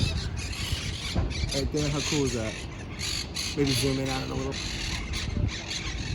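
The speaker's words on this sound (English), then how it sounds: "you can hear it right now. These are actually the Greenwood parrots." Parrots squawk in harsh, repeated bursts near the gates of Green-Wood Cemetery in Brooklyn, two clear rounds of calls standing out over steady outdoor noise while a person talks throughout.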